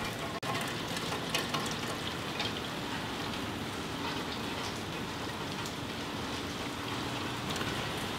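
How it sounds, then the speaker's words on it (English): Steady rain falls outside, a continuous even hiss of drops pattering on surfaces, moderately close and unbroken for the whole stretch, with no voices. "It's raining outside."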